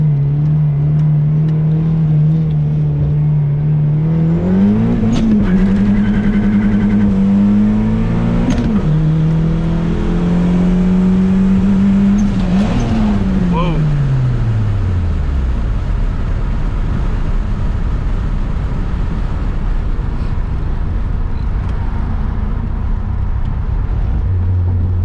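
A Mitsubishi Eclipse DSM engine drones at a steady idle, then revs hard in first gear in several rising surges, each climbing pitch falling back. It finally drops to a low rough rumble with no talk.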